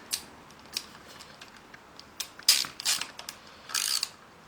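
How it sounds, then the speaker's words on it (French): Screws on a moped ignition stator being tightened by hand, giving faint intermittent ratcheting clicks and scraping bursts, close by and without speech. "Donc je vais pouvoir venir serrer mes vis."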